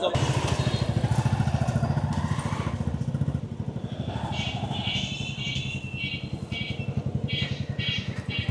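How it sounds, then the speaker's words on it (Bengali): A Royal Enfield Classic 350cc motorcycle engine thumps steadily up close in city traffic, a low, rapid, even pulse running through the whole stretch, with other traffic noise faintly behind it. "আর এই যে ধুক ধুক ধুক ধুক সাউন্ড, এই ট্রাফিকের মধ্যে অন্যান্য সব সাউন্ডের মধ্যে রয়্যাল এনফিল্ডের সাউন্ড"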